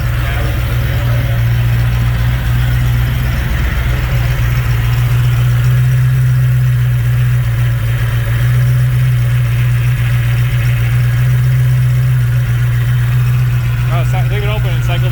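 A Ford Fox Body Mustang engine idles steadily, with a strong low hum that holds at an even level throughout. Faint background noise and light clatter sit on top of the engine.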